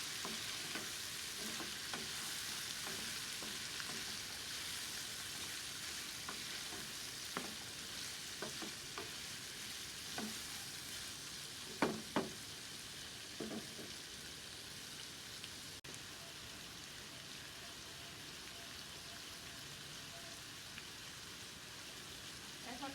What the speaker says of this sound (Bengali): ও চিচিঙ্গা দিয়ে দিলাম। এখন এগুলিকে নেড়ে চেড়ে দিই।